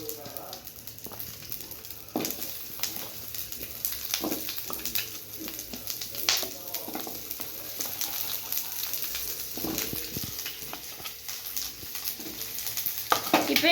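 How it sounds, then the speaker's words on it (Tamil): Chopped onions fry and sizzle in a pan of oil while being stirred with a utensil for paneer butter masala, with intermittent scraping and clinking over a soft continuous sizzle and some faint voice in the background. "இப்போ வெங்காயம் போட்டுக்கலாம்"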